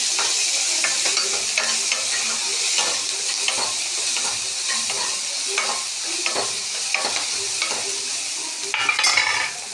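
Chopped tomatoes sautéing in a pan for onion rasam, a steady close sizzle with a spoon scraping and stirring in repeated strokes, no voices present.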